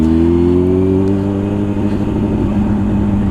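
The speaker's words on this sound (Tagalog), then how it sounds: "Kasi alam nyo, napakalakas ng motor na to." A powerful big-bike motorcycle engine, a Kawasaki ZX10R, revs loud and close with a falling, rumbling tone, holding a steady heavy drone with no speech.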